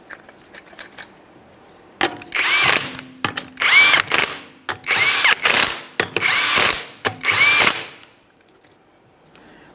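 Five loud bursts of a power tool tightening 19mm lug nuts on a 2013-2020 Ford Fusion rear wheel, each whirring and ratcheting for about a second with short pauses between, close by and alone.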